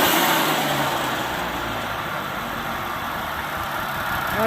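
A two-stroke engine destined for a small van runs steadily and fairly close, with a dense buzzing drone and slight rises in revs, and no voices.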